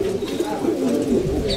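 Domestic pigeons cooing close by, a continuous soft, throaty warble that rises and falls without pause over about two seconds.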